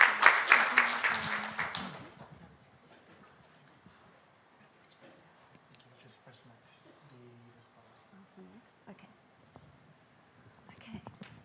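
Audience applause at a startup pitch night and graduation event, a loud burst of clapping for the first two seconds that quickly dies away, followed by quiet room noise with faint talk.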